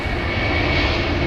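Loud, sustained roar of an Air China Boeing 747-8i's four jet engines at takeoff power during the departure roll, a dense rumbling drone with no break.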